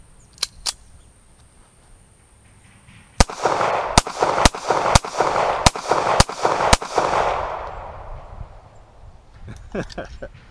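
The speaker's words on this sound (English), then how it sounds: "Okay, I'm just gonna start shooting this thing." A Star BM pistol is fired repeatedly at a broken heater outdoors, giving a rapid string of about seven loud, sharp shots with echo and a decaying tail, followed by quieter handling clicks.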